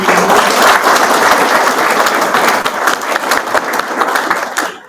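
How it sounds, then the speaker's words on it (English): An audience at a coastal protection board meeting applauding, a loud, close, sustained roar of many people clapping that holds steady and then fades out at the end. "A round of applause for his years."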